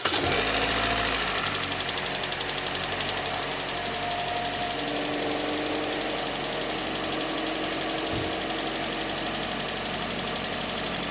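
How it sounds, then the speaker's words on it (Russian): A Kia Sportage 4 engine cold-starts after standing five hours, catching with a low burst and then settling into a steady idle with a continuous mechanical knock. The engine runs alone, close and constant, with no voices. "Вот, пожалуйста, стук и запуск холодного двигателя."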